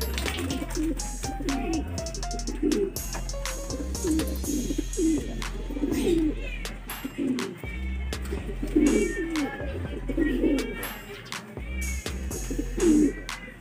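Racing pigeons cooing in a loft, repeated soft rolling coos in a steady rhythm, close by, with sharp clicks and faint background noise between the calls.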